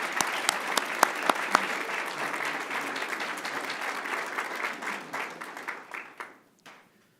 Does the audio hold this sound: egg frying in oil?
no